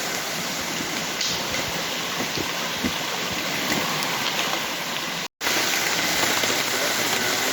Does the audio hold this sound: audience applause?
no